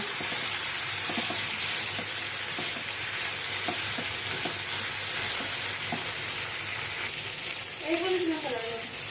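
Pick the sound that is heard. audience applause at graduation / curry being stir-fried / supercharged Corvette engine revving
curry being stir-fried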